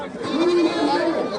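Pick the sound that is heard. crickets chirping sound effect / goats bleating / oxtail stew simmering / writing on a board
goats bleating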